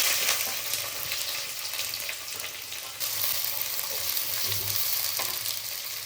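Sliced onions and green chillies fry in hot oil with crackled mustard seeds, a loud, close, continuous sizzle broken by stirring scrapes, with a brief dip midway and no voices.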